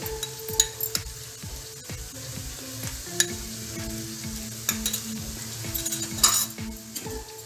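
Bitter gourd fry with coconut powder is stirred in a hot pan, with a steady sizzle and repeated close scrapes and clinks of the spoon against the pan over light background music.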